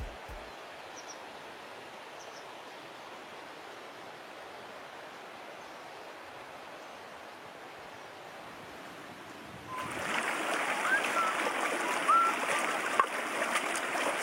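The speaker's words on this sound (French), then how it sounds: "on a le petit ruisseau là qui coule juste derrière" A small mountain stream flowing behind a spot near the Ayous lakes among flower fields and forest, a faint steady trickle that swells to a louder, closer rush for the last few seconds.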